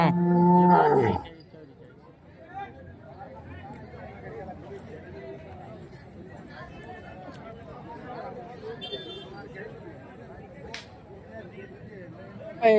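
At a weekly bull and cattle market in Hirapur, Beed district, a loud, close cow moo opens the clip. A steady crowd murmur and bargaining voices follow.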